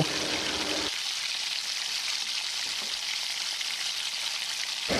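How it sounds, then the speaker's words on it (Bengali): Chopped onions frying in hot oil in a wok give a steady, bright sizzle that runs continuously and close, with a softer, louder burst at the start before settling, no voices present. "প্রথমে কড়াই তেল গরম করে আগে থেকে কুচি করে কেটে রাখা পেঁয়াজগুলো ভালো করে ভেজে নেব।"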